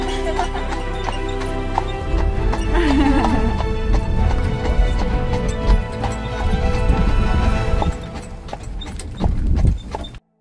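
Pony hooves clip-clopping at a steady walking rhythm on a road trip in Ireland, close and fairly loud, with a brief whinny partway through and a steady background hum throughout.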